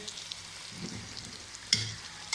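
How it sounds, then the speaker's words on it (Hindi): Potatoes, eggplant and onions frying together in a pan, a soft continuous sizzle broken by a few clattering stirs and scrapes of a spoon. "अब ये सबसे पहले ये अच्छी तरह फ्राई हो जाए। आलू बैंगन प्याज"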